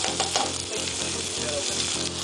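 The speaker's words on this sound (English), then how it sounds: "Ooh, that sizzle." A brat burger sizzles and spits steadily in a hot pan, a dense continuous frying hiss close up with faint rhythmic clicks underneath and no talking.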